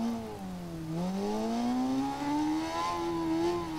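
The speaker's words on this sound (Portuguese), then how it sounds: "Olha a mototoca da Bema, mano." BMW M 1000 RR motorcycle engine, a 2021 model, revving with a smooth rising whine that dips then climbs and holds a high steady pitch, sustained and fairly clear without talk.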